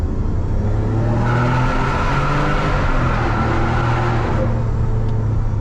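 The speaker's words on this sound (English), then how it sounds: "That's that V12 just screaming." A Ferrari 575M Maranello V12 revs hard inside a tunnel, a loud continuous roar with rising engine harmonics that echo off the walls, heard alone without talk.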